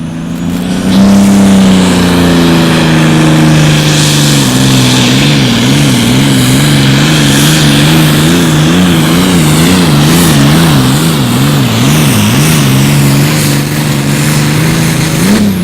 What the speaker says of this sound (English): It's a 7000 series John Deere called the Burnin Bucks.